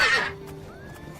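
A horse in the video game Morrowind gives a short, bright neigh that trails off into a thin tone, heard alone and fairly close.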